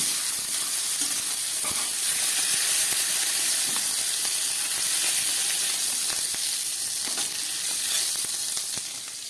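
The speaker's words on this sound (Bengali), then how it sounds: "চিংড়ি মাছটা ভালো করে ভাজা হয়ে গেছে, এবার তুলে ফেলছি।" Shrimp frying in hot oil gives a steady, dense sizzle with crackling pops throughout, close and loud, with no voices.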